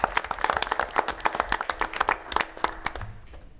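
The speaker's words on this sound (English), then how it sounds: "I think we should give them a round of applause" A small group claps steadily for a few seconds at a school board meeting, distinct individual claps close by, with no talking over it.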